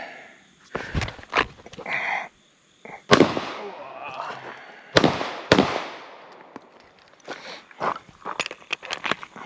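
Three sharp, loud pistol shots fired at cardboard targets on an outdoor shooting range, spaced a couple of seconds apart, each with a ringing decay, surrounded by close rustling, footsteps and gear handling.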